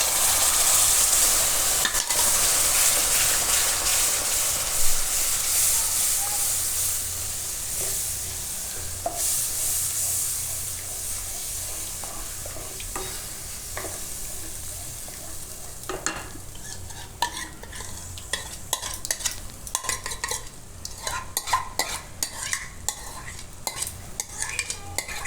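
Yogurt hits a spiced masala frying in a pan, a soft steady sizzle with repeated spoon scrapes and stirring taps that grow busier toward the end, close and fairly quiet.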